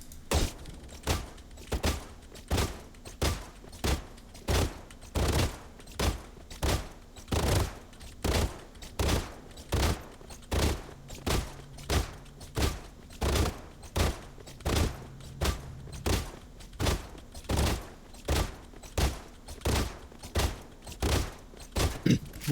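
Vandal rifle fire in Valorant aim practice: single, evenly spaced shots repeat about once a second throughout, crisp and punchy with short tails, no talking over them.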